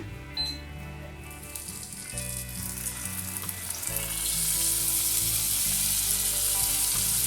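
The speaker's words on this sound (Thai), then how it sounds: "ทีนี้เราก็แค่เอาไปทอดในกระทะนะคะ" Garlic bread frying in a pan starts with a few clicks and low rumbles, then a bright crackling sizzle builds and stays loud and continuous to the end.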